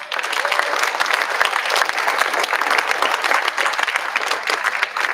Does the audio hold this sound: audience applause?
yes